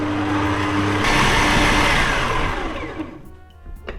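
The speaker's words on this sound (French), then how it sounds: "on va venir mélanger le tout à vitesse maximum pendant 10" Stand mixer whirring at maximum speed through flour, fleur de sel and egg yolks for shortbread dough, a loud close motor drone that cuts off after about three seconds, leaving faint clatter.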